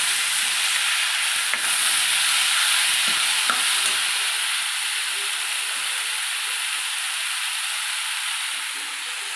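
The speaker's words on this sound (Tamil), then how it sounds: "அதனால் தக்காளியை கூட சேர்த்துட்டு நம்ம நல்லா கிண்டி கொடுத்துக்கலாம்." Tomatoes and asafoetida are stirred in a hot pan for a spicy fish curry, giving a steady broad sizzle with a few faint scrapes early on that gradually softens toward the end.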